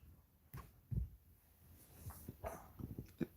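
A dog barks at the door indoors, a few short, fairly faint barks and whimpers spaced unevenly across a few seconds.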